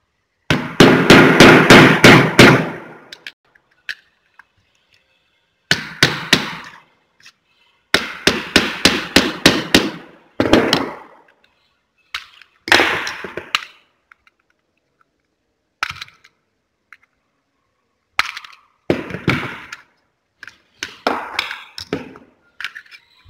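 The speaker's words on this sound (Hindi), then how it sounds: "हथौड़ी की मदद से ठोकते हैं तो ये बाहर की ओर आ जाता है" A hammer taps pins out of an MCB circuit breaker, loud rapid bursts of sharp metallic strikes, several quick runs of blows separated by pauses, close up with no talking.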